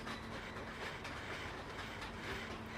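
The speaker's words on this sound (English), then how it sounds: "the train's not supposed to be making that noise" Dense, steady rumble and rattle of a malfunctioning New Jersey Transit train in motion, with a thin sustained whine running underneath the clatter throughout.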